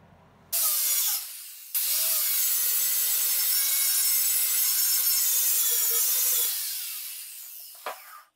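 A power saw cuts through wood during bench-building work, starting with a short burst, pausing briefly, then one long steady high whine that tapers off as the cut finishes, with a faint tap near the end.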